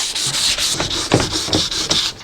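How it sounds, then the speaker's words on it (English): Steady, rhythmic rasping of sandpaper scrubbing back and forth against a cloudy plastic car headlight lens, close and loud, with no talking. "make sure that when you're sanding it, you are rotating the piece of sandpaper quite often"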